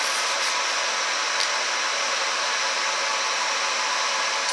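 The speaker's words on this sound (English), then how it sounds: "Now you can hear the laser came on, and it is a little bit louder now." A Monport GP 30 laser engraver runs with a steady, airy whirring hiss that stays even throughout, close and fairly loud, with no talking over it.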